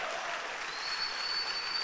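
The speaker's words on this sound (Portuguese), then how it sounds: "Se for para Jesus, pode dar um aplauso" Congregation applause in a church: dense, steady clapping from many hands throughout, with no voices over it.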